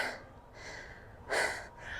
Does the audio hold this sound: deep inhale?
yes